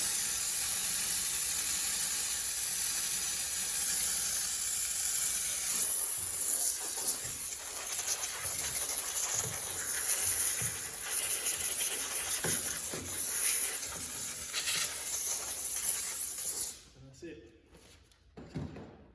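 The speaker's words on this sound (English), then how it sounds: "I don't let the steam sit in one area for too long." Continuous loud hiss of a steam cleaner on a car door with occasional clunks and scraping, cutting off near the end to a quieter room.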